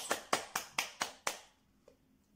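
Six sharp, evenly spaced claps at a mixed arts workshop, quiet and close, followed by a near-silent pause with a faint tap.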